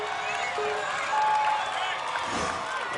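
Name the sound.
crowd cheering in the stands at American Ninja Warrior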